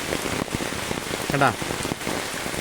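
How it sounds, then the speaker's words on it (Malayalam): A heavy downpour falls beside a river at a fishing spot, making a dense, continuous hiss of rain close by. Someone speaks briefly over the steady roar. "കട്ട മഴയുള്ള തകർത്ത മഴ പെയ്തുകൊണ്ടിരിക്കുക"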